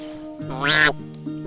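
A talking cartoon duck gives one nasal quack, close and clear, between brief quiet moments.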